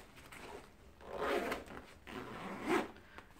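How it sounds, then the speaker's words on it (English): The zipper on a travel bag packed with art supplies and a Kindle is pulled shut in two quick, close rasping strokes with a short pause between, then handled briefly. "Zip it all up."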